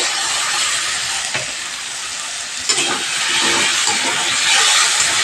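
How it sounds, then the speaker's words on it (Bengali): Spice masala frying in a pan over medium-low heat, a loud, steady sizzle close by, with brief scraping stirs breaking through, no talking. "সব মশলা একসঙ্গে খুব ভালো করে কষিয়ে নিতে হবে।"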